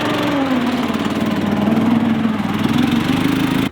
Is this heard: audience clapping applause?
no